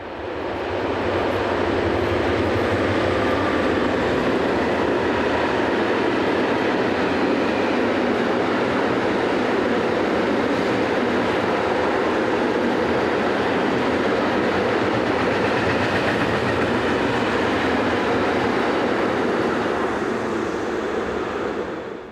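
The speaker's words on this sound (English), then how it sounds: "11617 passes through Mülheim on the 29th of April 2004, heading an oil train for Mellingen." An SBB Re 6/6 electric locomotive hauls an oil train through Mülheim on the Gotthard route, a loud, continuous rumble of wheels and wagons rolling past close by with no let-up.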